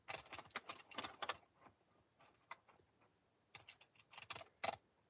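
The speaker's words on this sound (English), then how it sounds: "I'm going to trim the paper with my lace" Lace edge scissors trim paper in a craft session, a quiet run of crisp snipping clicks in irregular clusters with a pause in the middle, close by with no talking.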